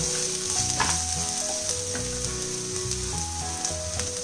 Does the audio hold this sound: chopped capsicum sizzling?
yes